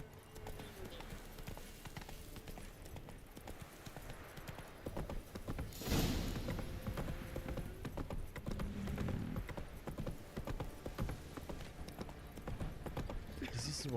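Geralt's horse Roach trots through The Witcher 3 toward a castle, hooves clip-clopping steadily under game music, with a louder swell around the middle.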